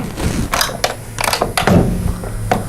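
On a GYS spot welder, the arm-lock pin is knocked and seated with a series of close, sharp metallic clicks and dull thuds, irregular and loud, with no voices.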